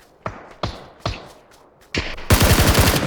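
Gunfire in a Korean online shooter game, a few sharp single shots spaced apart followed by a rapid automatic burst, loud and close with no talk.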